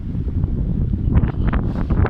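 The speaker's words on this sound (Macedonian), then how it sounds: "дува ветер" Wind gusts buffet the microphone in a loud, rumbling roar, with brief rustling swells rising and falling throughout.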